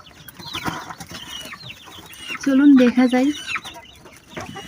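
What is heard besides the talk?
pet quails calling in a small cage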